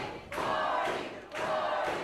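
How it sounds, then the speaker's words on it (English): Wrestling crowd in an arena coming alive, loud rhythmic chanting surging in two strong waves with a short dip between them. "Can you hear this crowd coming alive?"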